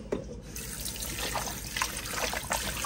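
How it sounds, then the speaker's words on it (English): Rinse water poured off raw goat meat being washed for Jamaican curry goat, a steady splashing trickle into a sink that runs the whole time without any talk. "Pour the water off."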